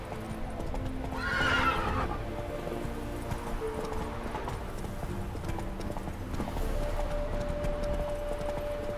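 Horse in The Witcher 3 video game galloping with rapid rhythmic hoof clip-clops and letting out a loud whinny near the start, the hoofbeats carrying on steadily throughout.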